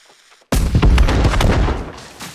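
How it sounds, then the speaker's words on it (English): After a half second of quiet, a loud booming cannon blast from the video game New World erupts and rumbles on, decaying into a sustained low roar. "Alright, I'm gonna interact with this cannon."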